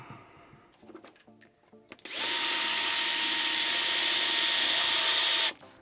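A power drill whines steadily for a few seconds, boring into a block of wood, after some light handling knocks; the loud high-pitched drone stops abruptly.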